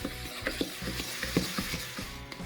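Dry oat flakes and chia seeds stirred together in a bowl, a close, steady rustling scrape with light taps from the utensil against the side, over a low background hum and without voices.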